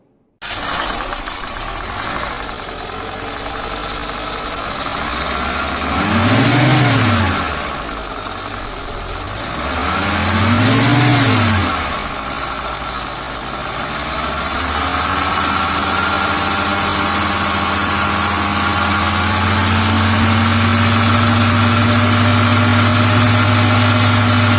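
A car engine with a non-charging alternator runs steadily for a long stretch, rising twice in brief revs before settling into a constant idle hum with a faint whine.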